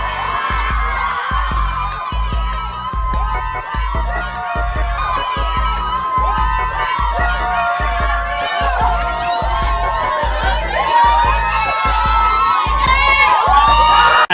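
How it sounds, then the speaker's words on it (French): Blackpink fans at an event scream Jennie's name, a dense high-pitched crowd roar that stays loud and unbroken throughout, with a steady low thumping beat underneath. "t'as énormément de fans de Blackpink qui sont devant et qui crient le nom de Jennie"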